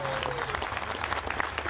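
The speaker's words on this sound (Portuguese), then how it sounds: "De maneira com uma grande salva de palmas para a banda de Lowell." Audience at a Portugal Day celebration clapping for a band from Lowell, a dense steady patter of applause with a faint tone running underneath early on.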